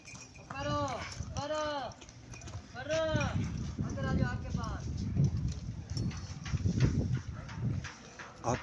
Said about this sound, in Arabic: شوف الحصان دي كلها